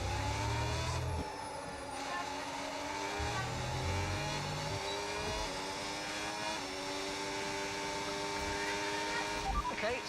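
A Formula 1 car in the F1 26 racing game runs at high revs, its engine whining and shifting through gears over a steady drone while a race engineer's radio voice speaks over it.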